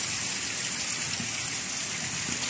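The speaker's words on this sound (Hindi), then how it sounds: "आज बहुत ही ज़्यादा बारिश है, यानी कि पानी ही पानी हो चुका है हर तरफ में।" Heavy rain pours down outdoors in a dense, constant hiss, loud and unbroken throughout.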